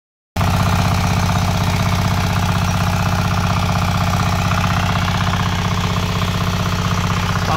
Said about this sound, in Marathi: आपण ट्रॅक्टर आणलेलं आहे